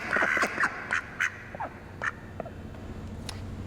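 A live duck quacks on cue inside an echoey warehouse, giving several short, close quacks in a loose rhythm with a reverberant tail, alone over faint room hum.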